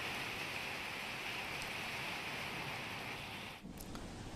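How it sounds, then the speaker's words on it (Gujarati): Heavy rain pours down in Banaskantha, Gujarat, during a storm with wind and lightning, a dense, steady roar of falling water that stays loud and even throughout with no voices. "વીજળીના કડાકા સાથે પવન સાથે વરસાદ છે।"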